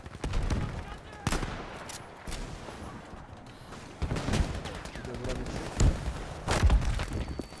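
Battlefield 5 gunfire and bombardment: bursts of rapid shots, heavy thuds and booming blasts rise and fall through the scene, dense and fairly loud, with a player's voice breaking in now and then.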